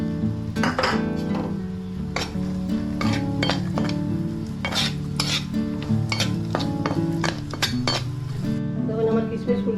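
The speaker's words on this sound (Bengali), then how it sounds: "এখন আমি কিশমিশ গুলা ভাজব।" Raisins are frying in a pan and being stirred. A steady sizzle runs throughout, and a metal utensil repeatedly scrapes and clinks against the pan up close. There is no talking.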